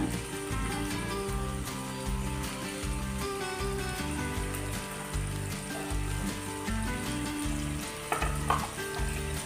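Mixed vegetables fry in a pan with turmeric and salt for khara bath, giving a steady, even sizzle with occasional stirring scrapes beneath background music.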